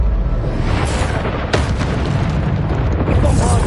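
Bombarda spell explosions in Hogwarts Legacy combat on PS5, a loud continuous rumbling blast with a sharp burst partway through, heavy low-end boom throughout, and a voice speaking underneath.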